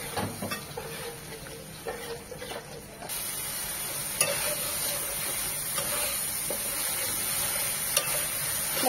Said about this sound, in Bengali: একটু পানি দিয়ে মশলাটাকে খুব ভালোভাবে কষিয়ে নেব।